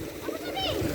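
Water splashes briefly as a child's feet are washed outdoors in a village, a short wet splatter heard close under a voice and a child's chatter.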